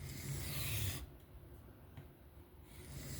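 Benchmade Bugout knife with an M390 steel blade being freehand sharpened on a stone, producing soft, steady rasping strokes that come in a few short passes, close and quiet with no talk.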